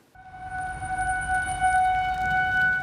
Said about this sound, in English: the tornado sirens that blared through the city on June 8th should never have sounded